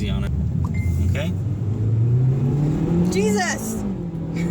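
A Mitsubishi Lancer Ralliart accelerating at full throttle, its engine note climbing steadily in pitch as heard from inside the cabin, with people talking over the engine.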